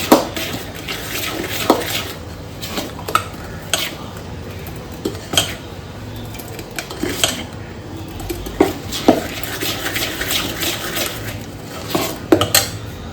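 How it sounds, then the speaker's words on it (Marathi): Mixed-lentil appe batter is stirred in a bowl with a utensil, giving repeated scraping and clinking taps against the side at an uneven rhythm, close and fairly loud, with no talking. "पूर्ण मिक्स करायचं"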